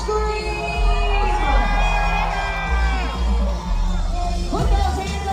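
Large crowd at a Magic Kingdom New Year's Eve party screams, whoops and cheers continuously and loudly, with children's shouts in the mix and a steady low rumble of music or park ambience beneath the close, dense roar.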